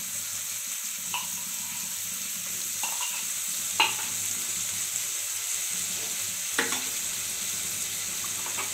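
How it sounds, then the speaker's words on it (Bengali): Half a spoon of garlic paste frying in hot oil gives a steady broadband sizzle throughout, with a few brief scraping clicks from stirring near the middle and end. "2 মিনিটের মতো ভেজে নিতে হবে।"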